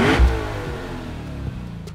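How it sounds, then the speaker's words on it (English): A Lexus IS 500's 5-liter V8 engine revs sharply, then its roar trails off as the car pulls away, loud and close. "We know the Lexus 5-liter V8 sounds fantastic, and this car lets it sing."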